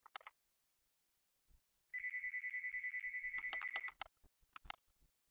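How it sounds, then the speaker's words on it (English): A phone rings in the background of a room during Plants vs Zombies play, one steady electronic ring lasting about two seconds, moderately loud, between clicks and short bumps. "it's just my dad's phone ringing, don't mind that"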